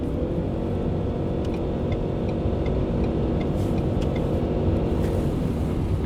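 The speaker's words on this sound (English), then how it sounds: "I'm going to turn off cruise control, and I'm just going to mat it, okay? So you guys can see how it accelerates." A 2022 Ford Maverick Lariat hybrid pickup accelerates at full throttle from 74 mph uphill in normal drive mode, with steady, loud engine and road roar filling the cabin and no voices.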